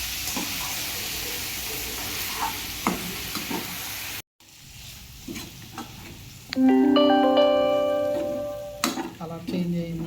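Chicken with turmeric, chilli and salt frying in a pan, with a steady sizzle and occasional stirring scrapes, a brief gap, then a louder burst of hissing sizzle.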